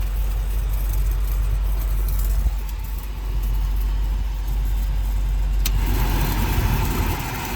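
A Toyota Corolla engine runs at a steady idle with a dead air conditioner, a low constant rumble close by, with a brief small clunk near the end.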